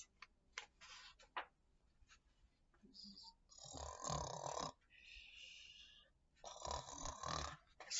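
A voice imitating Santa snoring after falling asleep in an armchair: long, rasping, drawn-out snores with short clicks and breaths between them, quiet and close.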